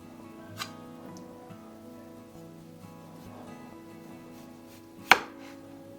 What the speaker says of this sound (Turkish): Çok derin olmayacak şekilde küçük bir kesik atıyorum.